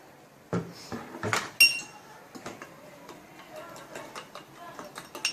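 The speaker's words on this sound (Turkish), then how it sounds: "İyice karıştırın" A spoon stirring a starch, milk and sugar mixture in a pot, giving light, irregular metallic clinks and taps against the pot, a few sharper knocks early on, then softer scraping ticks.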